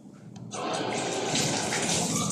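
Tap water runs steadily while green vegetables are washed, a continuous splashing flow that starts abruptly and stays loud and close throughout.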